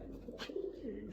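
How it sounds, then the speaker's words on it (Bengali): A pigeon hen coos once nearby, a short soft low throaty call over a faint background. "আমার মোস্ট ফেভারিট একটা মাদি কবুতর"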